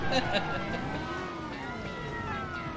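Police car sirens wail in the Driver 2 video game during a car chase up a hill. Several overlapping sirens rise and fall steadily at a moderate level, with faint engine noise underneath.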